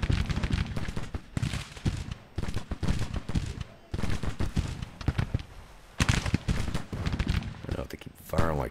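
Musket volleys in the Grand Tactician: The Civil War video game crackle in dense, irregular bursts with brief pauses, loud and sustained, as someone talks over the firing.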